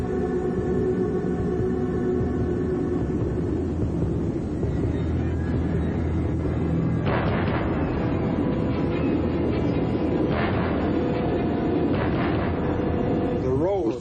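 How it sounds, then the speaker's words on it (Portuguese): A tornado roars in a deep, continuous rumble like a passing train, loud and steady throughout, with a narrator speaking over it. "Tornado."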